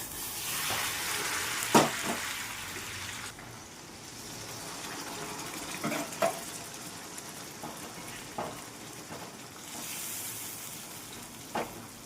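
Bitter gourd (karela) vegetable frying in a pan, a close steady sizzle broken by occasional stirring scrapes and light clinks, with no talking.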